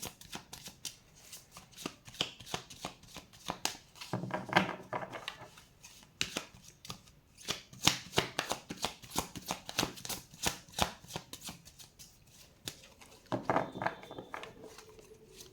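Tarot cards being shuffled by hand in repeated riffling bursts of crisp, close flutters and taps, with short pauses between rounds and no talk.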